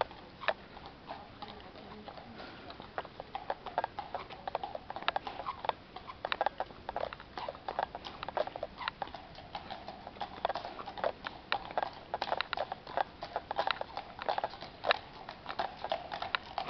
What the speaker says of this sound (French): les chevaux sont passés